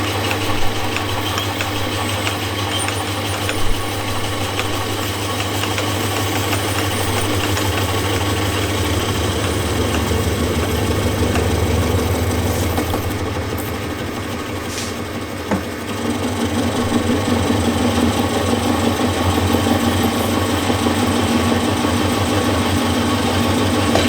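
A Sieg SC4 lathe facing a one-inch-thick aluminium billet, a continuous loud motor hum with a steady mechanical whine throughout and a faint light scrape of cutting, no voices.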